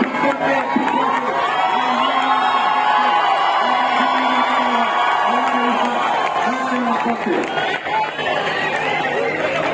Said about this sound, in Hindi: आप सभी से आग्रह जोरदार तालियों के साथ में अभिवादन करें